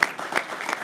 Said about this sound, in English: please a massive round of applause for Abhinav Thakur.